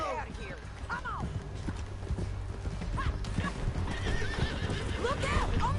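Horse in Red Dead Redemption 2 whinnying several times over steady clip-clopping hooves at a run, with voices talking over the gallop.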